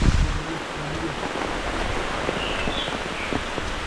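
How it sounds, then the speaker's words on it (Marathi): Rain falls steadily through dense Kokan monsoon forest, a continuous broadband patter with no distinct drops standing out, heard alone without talking. "पाऊस पण आला आहे"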